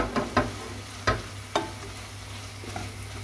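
Lettuce is stirred into a frying chicken dish, with a few sharp spoon scrapes and taps over a low, steady sizzle and a faint background hum.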